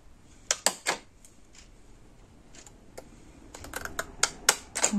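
Scissors snip card to bevel small tabs, several quick close crisp cuts in a burst at the start, then a quieter pause, followed by a faster run of sharp little snips toward the end.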